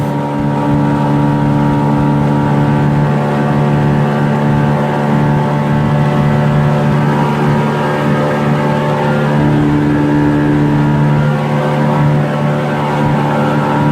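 A motorboat engine held near full throttle, running about 1,000 revs short of its target and in need of a carburetor rebuild, gives a loud, steady, close droning roar with no talk over it.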